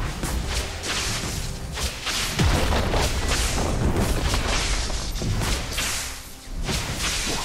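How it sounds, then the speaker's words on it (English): Booming impacts and swishing whooshes come as a League of Legends turret is destroyed, with repeated thuds and a heavy burst midway, loud and close over steady game ambience. "Blue team's turret has been destroyed."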